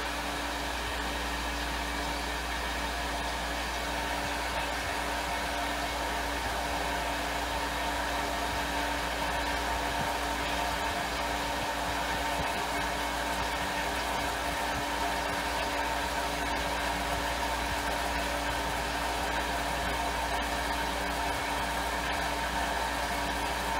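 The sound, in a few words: water pump running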